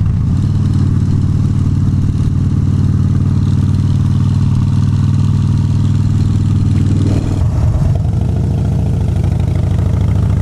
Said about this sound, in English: Something's rattling down there.